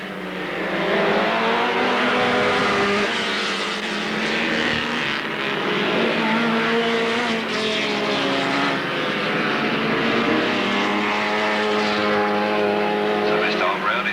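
Stock cars race around the oval at Alwalton, engines droning and rising and falling as they pass, with a commentator talking over the steady roar.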